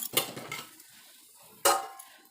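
A metal lid lifts off a cooking pot of ulundhu kali with a sharp clank, then a second louder clatter of the lid follows after a quiet pause.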